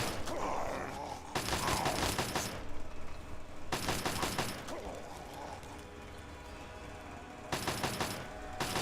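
Turret machine gun in Fallout 3 firing in three long, loud, rattling bursts separated by quieter pauses with mechanical whirring and faint ambient noise.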